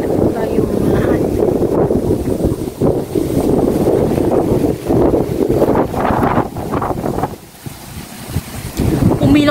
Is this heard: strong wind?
yes